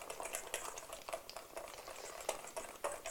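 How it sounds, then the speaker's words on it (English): Buckwheat blini batter is whisked in a bowl, a quiet, rapid rhythmic scraping and clicking of the whisk against the bowl, steady and close, with no talking. "So we keep on whisking the batter until we can't see any lumps anymore."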